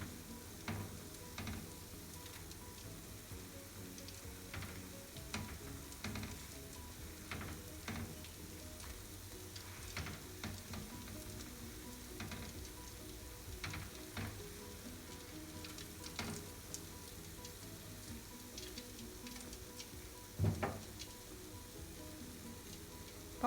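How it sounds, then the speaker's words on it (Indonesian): Catfish fries in reused oil left from frying pastries, a steady close sizzle with scattered crackles and pops throughout, and one sharper clatter near the end. "jangan takut menggoreng lele."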